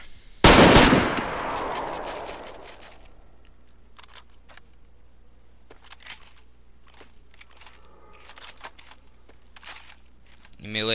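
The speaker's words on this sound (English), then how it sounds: "Ready! Aim! Fire!" A ceremonial rifle volley at a military funeral: one loud, close crack at the start with a long ringing decay, followed by faint clicks and rustles, and no voices.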